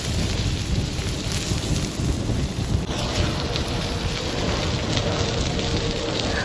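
Ribeye steaks searing on a charcoal grill at an outdoor park give a steady, dense sizzle and crackle that runs unbroken, with broadband outdoor noise mixed in.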